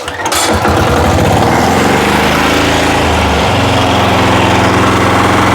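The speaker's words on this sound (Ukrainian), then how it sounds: "Дизель запускається на максимальних обертах." A Weima walk-behind tractor's diesel engine cranks and catches at full revs, then settles into a loud, close, steady clattering roar with a shifting pitch.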